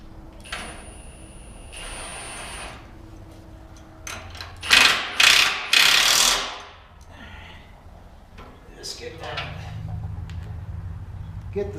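Milwaukee ratchet working sockets on a 1969 Corvette front suspension, with mechanical clicks and clatter, then a loud burst of rapid ratcheting around the middle before quieter handling noises resume.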